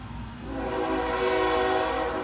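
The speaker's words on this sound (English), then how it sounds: "The timer just went off for the meatballs." A kitchen timer sounds a steady electronic beeping alarm with a harmonic, buzzy tone, continuously, moderately loud and close, with no talking.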